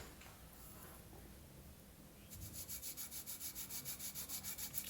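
Sandpaper rubs over balsa wood for a hand launch glider, first softly and then in quick, regular back-and-forth strokes that grow louder, close up and with no voices.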